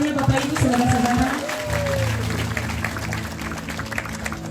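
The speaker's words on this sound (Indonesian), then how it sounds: "Boleh minta tepuk tangannya Bapak Ibu saudara-saudara." Steady applause from a congregation at a church service in Indonesia, with a voice speaking over it and music starting partway through.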